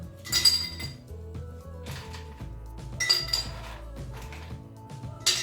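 Ice cubes dropped into a glass for homemade strawberry raspberry lemonade, producing bright clinking and rattling in several close bursts with short gaps between them.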